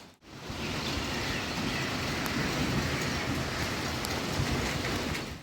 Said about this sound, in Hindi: बहुत अच्छा लग रहा है, बारिश हो रही है